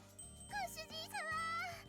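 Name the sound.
cat girl's bell jingling in NekoPara Vol. 2 video game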